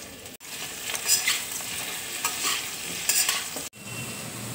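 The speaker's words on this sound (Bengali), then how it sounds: "সেই ঘিয়ের মধ্যেই আমি লাউটাকে দেখো দিয়ে দিচ্ছি" Bottle gourd (lauki) sizzles as it fries in ghee in a kadai for a lauki sweet, with a steady crackle and a few stirring scrapes, then a brief drop out near the end.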